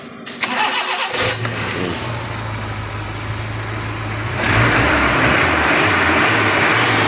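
A car engine cranks and catches, then settles into a loud, steady idle close by, and its roar rises as it revs near the end. No one speaks over it.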